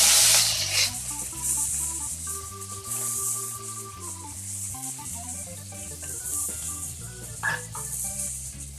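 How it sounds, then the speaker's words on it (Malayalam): Chopped onion and tomato hit hot coconut oil with a loud burst of sizzling hiss at the start, then a softer sizzle continues under background music while a Kerala-style kothamara mezhukkupuratti is cooked. "ഇപ്പോൾ വെളിച്ചെണ്ണ നന്നായിട്ട് കാഞ്ഞിട്ടുണ്ട്. അതിലേക്ക് നമ്മൾ അരിഞ്ഞു വെച്ച ഒരു സവാളയും ഒരു തക്കാളിയും കൂടി അരിഞ്ഞു വെച്ചതാണത്."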